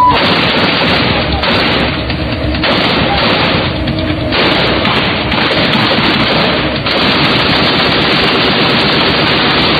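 Sustained rapid gunfire crackles almost without pause, dense and loud, with bursts of shots blending into a constant roar.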